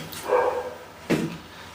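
A dog barks twice in the background, distant and muffled, with a short pause between the two barks.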